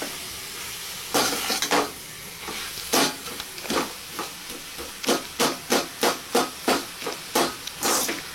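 Potato and banana flower sauté in a pan for vazhaipoo cutlets, as a spatula scrapes in a run of quick, evenly spaced strokes over a low sizzle, close and with no voices.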